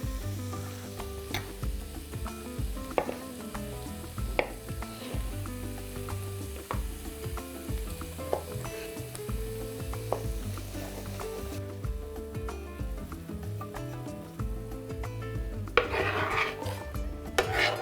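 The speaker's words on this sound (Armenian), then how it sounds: "Մինչ սունկը տապակվում է" Finely chopped agaricus mushrooms frying in a pan, a close, continuous sizzle broken by repeated scraping and stirring strokes from a utensil, with no voices.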